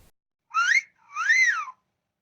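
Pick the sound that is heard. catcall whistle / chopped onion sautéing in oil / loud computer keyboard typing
catcall whistle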